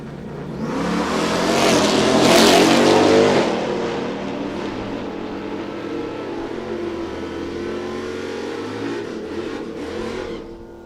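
A Jeep and a Hellcat Charger launch in a drag race, engines roaring loud as they accelerate, peaking early then holding a steady engine drone as they pull away.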